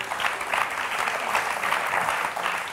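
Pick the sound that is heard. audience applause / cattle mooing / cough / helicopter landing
audience applause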